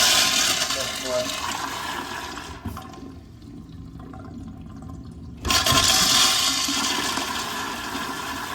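A toilet flushes in a bathroom where a Zurn vacuum breaker has just been replaced, with a loud rushing burst, then a quieter lull as the water drains, and a second strong surge as the tank refills. A voice speaks briefly near the start.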